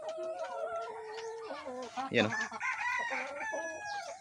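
Backyard chickens kept in a shelter out of the rain cluck and crow at close range, with a rooster's crow cutting through the steady clucking while someone talks briefly.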